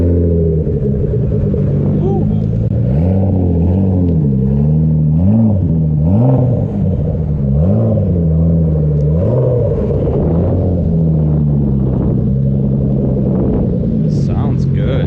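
A 2G DSM car with no power steering revs its engine, the pitch rising and falling in repeated swells over a steady rumble, close and loud, with someone talking over it.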